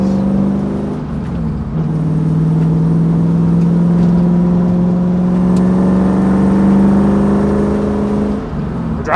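Loud, steady drone of a supercharged V8 drift truck heard from inside the cab, a strong low engine tone holding nearly constant for the whole stretch with a slight rise near the end.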